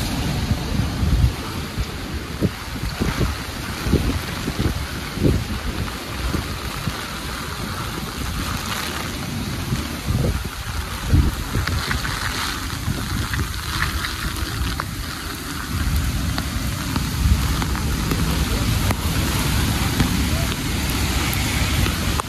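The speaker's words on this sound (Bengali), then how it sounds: "কি পরিমাণ বৃষ্টি হচ্ছে আমার ছাতা দেখে আপনারা একটু ধারণা করতে পারবেন। অনেক বৃষ্টি।" Heavy rain drumming on an umbrella along empty New York streets, a dense close rumbling patter that rises and falls over the whole stretch, with a voice talking over parts of it.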